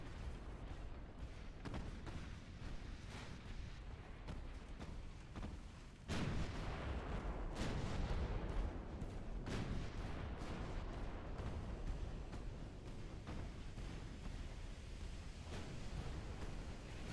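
Naval gunfire in a war video game during a USA campaign as ships target a battleship: faint, steady rumbling is broken by several heavy booming blasts, with the loudest cluster in the middle.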